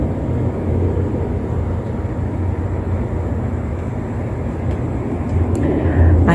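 A plane flies overhead through a snowstorm in Northeast Tennessee, heard as a steady, muffled low rumble that swells slightly near the end, with no one talking.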